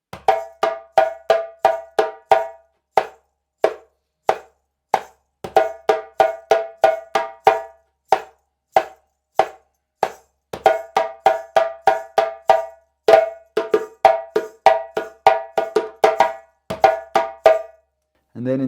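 A djembe break from the Guinean rhythm Fakoly, played alone: bursts of rapid hand strokes and flams in repeating phrases with short gaps, close and crisp.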